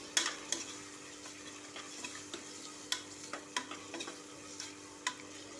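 Ginger garlic paste sautéing in a pan for chicken biryani, a quiet steady sizzle with repeated spoon scrapes and taps at an uneven rhythm, close and alone.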